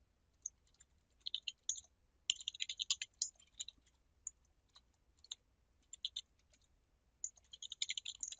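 Keystrokes on a computer keyboard come in quiet irregular bursts of light clicks with short pauses between them, as form fields are filled in during an otherwise silent stretch.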